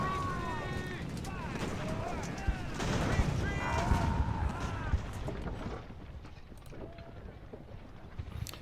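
Cannon artillery fire in the strategy game Ultimate Admiral, a British campaign land battle, with a dense rumble of booms and scattered gunshots, loud and busy at first then thinning out, with a voice talking over it.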